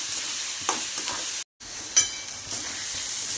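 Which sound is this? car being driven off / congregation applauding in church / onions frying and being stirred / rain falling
onions frying and being stirred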